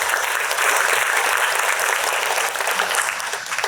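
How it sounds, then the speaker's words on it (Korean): A lecture-hall audience at a theology academic festival applauds a speaker being introduced, a dense, loud and even burst of clapping that fills the whole clip. "큰 박수를 맞아주십시오"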